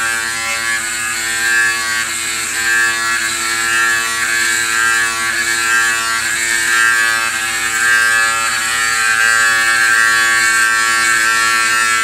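Mangroomer back hair electric shaver running on its turbo setting, a steady, loud, close buzzing hum that holds constant throughout with no voices.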